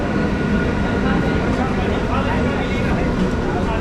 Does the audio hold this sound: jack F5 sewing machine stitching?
no